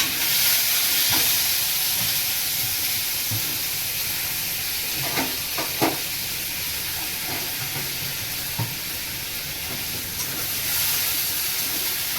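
Chillies, onion and tomato tossed together into hot oil in a home kitchen, giving a steady, loud sizzling hiss that runs throughout with a few faint clicks and pops.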